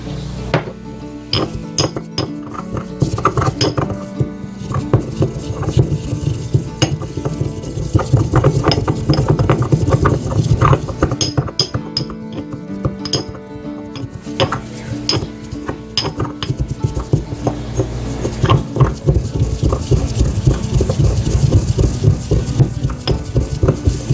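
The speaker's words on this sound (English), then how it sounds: "I'm going to crush this up a little more finely." Dried homegrown oregano being crushed by hand, a continuous dense crackling and rustling with small clinks, close and busy throughout.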